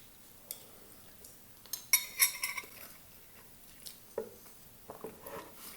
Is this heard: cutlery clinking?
yes